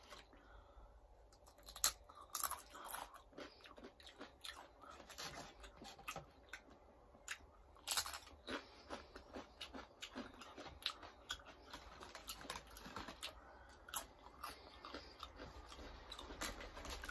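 Crunchy Taco Bell nachos dusted with seasoning being bitten and chewed up close, sharp irregular crunches scattered through steady mouth noises, no talking.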